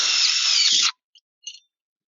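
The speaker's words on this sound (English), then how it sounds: "I'll go ahead and screw in the bottom here" A power drill drives a screw into a bracket on hillside stair sections in one loud, steady, high-pitched whir of almost a second. It stops abruptly, followed by a few faint clicks and a short rattle.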